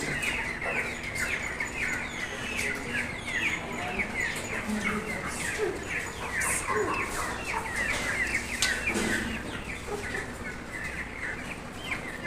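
Live broiler and native chickens and quails in a Sharjah poultry shop make a steady chorus of chirps, clucks and twittering calls, busy and moderately close, with a constant background hum throughout.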